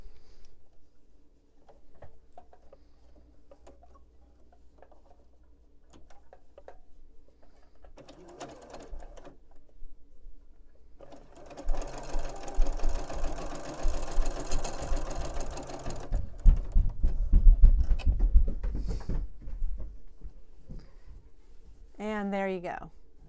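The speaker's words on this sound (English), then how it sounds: "I'm going to show you up close over by the sewing machine." Quiet handling noises give way to a sewing machine stitching a pot holder in a loud, fast, rattling burst, then stopping; a few soft clicks follow.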